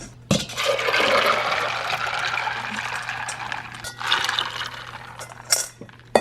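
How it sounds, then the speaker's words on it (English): Water gushes steadily into a 1.5 gallon glass jar of hibiscus tea, a continuous close splashing pour that swells and eases, with a few small clinks near the end. "fill it the rest of the way with water"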